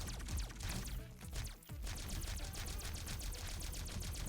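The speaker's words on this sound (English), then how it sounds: "There's a spread shot, which is my preferred weapon of choice." Spread shot weapon firing in the Atari VCS game Recharged Rocks, a dense stream of rapid electronic shots crackling steadily and loudly, with a brief dip partway through.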